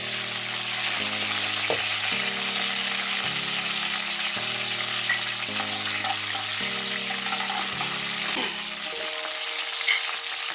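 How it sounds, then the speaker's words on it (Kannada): Mustard seeds and cumin crackle and sizzle steadily in hot oil in a home kitchen, a dense broadband hiss running nearly the whole time with a low hum underneath, close and continuous, with no talking. "ಇವಾಗ ಸಾಸಿವೆ ಜೀರಿಗೆನ ಹಾಕೊಳ್ತಾ ಇದ್ದೀನಿ."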